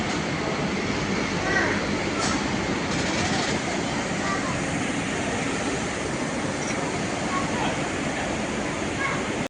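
An MRTS electric suburban train pulling into Velachery station, a steady broad rumble and rail roar with faint wheel clatter throughout, close and continuous, with a voice speaking briefly over it.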